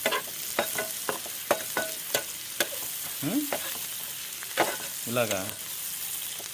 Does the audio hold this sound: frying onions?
yes